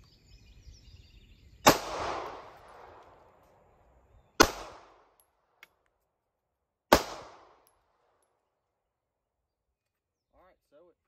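Hi-Point firearm fired outdoors, three loud sharp gunshots spaced about two and a half seconds apart, each trailing a brief echo, with quiet in between.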